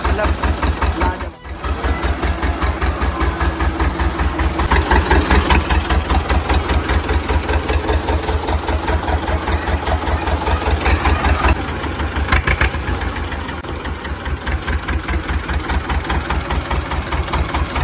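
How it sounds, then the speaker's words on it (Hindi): A restored Russian tractor's engine idles steadily and loudly close by, its even mechanical rhythm running throughout with a brief dip early on and people talking faintly in the background. "ये बात सुनिए, ये है रशियन ट्रैक्टर।"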